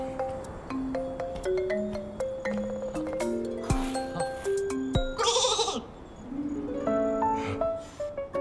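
A cartoonish Flora sheep bleats in the video game Infinity Nikki, several short bleats set among bright chiming game-music notes and jingles, fairly close and clear.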